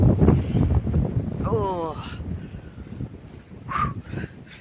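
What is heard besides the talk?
strong wind blowing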